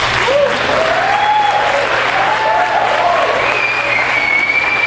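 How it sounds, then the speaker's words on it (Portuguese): A church congregation claps for Jesus in a loud, continuous round of applause, with a few voices cheering and calling out over the steady clapping. "Uma salva de palmas para Jesus"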